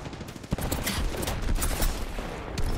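Gunfire in the battle royale game Apex Legends: a dense, continuous stream of rapid shots and sharp cracks at moderate loudness, a close volley standing out near the start, with no voices.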